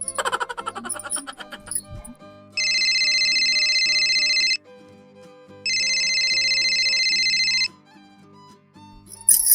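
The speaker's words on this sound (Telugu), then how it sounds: "మా అమ్మకు ఫోన్ చేస్తా" A phone call being placed rings out with two long electronic ringing bursts separated by a short pause, clear and fairly loud against a quiet background.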